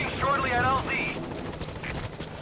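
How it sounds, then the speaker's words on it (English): A helicopter from the video game Metal Gear Solid V thrums at a landing zone with steady rotor noise and a high whine. A voice speaks over it in the first second. "Now we get to the chopper."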